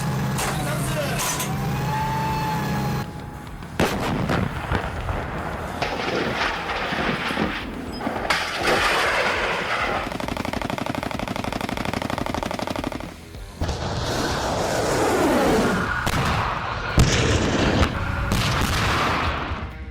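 Military artillery, rockets, cannons and tanks firing in a large armed-forces display: rapid bursts of loud gunfire and booming blasts amid heavy rumbling engines, dense and continuous with brief pauses.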